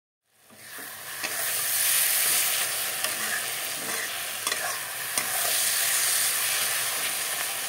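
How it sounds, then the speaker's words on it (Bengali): A dried fish mixture with turmeric, salt and spice powder sizzles loudly in hot oil for chutney, a dense steady hiss that starts abruptly and carries on with scattered stirring scrapes and no voices. "সব কিছু একসাথে দিয়ে দিলাম। এখন ভেজে নেব।"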